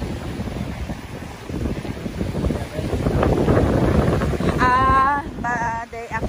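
Gusty wind buffets the microphone on the shore of lake Ammersee, a steady broadband roar swelling in the middle, with a brief tonal whine near the end.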